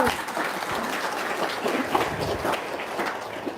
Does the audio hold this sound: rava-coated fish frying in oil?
no